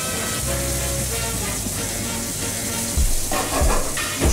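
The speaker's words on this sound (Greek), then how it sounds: "αφού κάψει το λάδι, σοτάρουμε ελαφρώς και τα μανιτάρια μας" Mushrooms sautéing lightly in hot oil in a frying pan, a steady sizzling hiss with a low hum underneath and a few louder bursts of spattering toward the end, close by.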